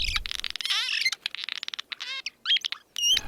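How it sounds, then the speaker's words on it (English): Hungry chicks poking out of a mud nest under a storage building's roof awning, giving rapid, high, thin chirps and trills in clustered bursts with brief gaps, close and fairly loud. "the chicks are sticking their little heads out of the nest entrance, singing and calling for food"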